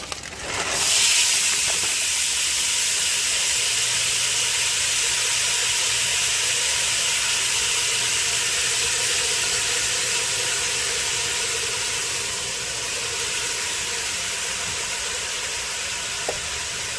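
Frozen celery, onion and peppers hit a hot pot with a loud, steady steam-like hiss that flares at once and holds evenly, easing slightly toward the end.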